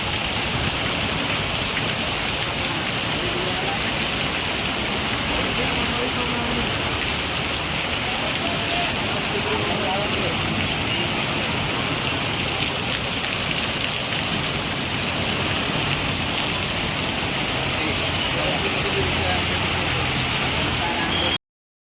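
A relentless downpour with a windstorm roars without pause, thick broadband rain close by, steady and loud from start to finish.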